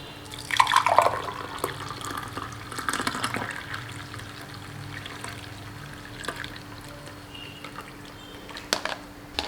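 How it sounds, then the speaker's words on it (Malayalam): Freshly blended juice poured into a stem glass, a soft, uneven trickle with scattered drips and small splashes, fairly quiet and close, with no talking. "നമുക്കൊരു സ്റ്റെം ഗ്ലാസ്സിലേക്ക് ഒഴിക്കും."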